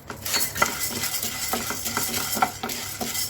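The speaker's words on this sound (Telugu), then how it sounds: "హాఫ్ కప్ పచ్చెనపప్పు వేసుకుందాం." Chana dal is tipped into a pan and stirred, giving a rapid series of dry rattling, scraping clicks from the spoon against the metal, close and moderately loud with no voices.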